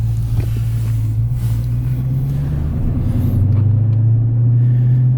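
A 2023 Dodge Challenger being driven, its engine giving a steady, loud low rumble that shifts slightly in pitch as it runs.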